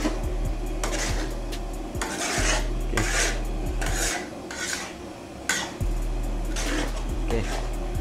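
A utensil scrapes and rasps repeatedly against a large pot while fried noodles for 60 people are stirred, with a steady rhythmic scraping over a constant low hum and a voice speaking briefly.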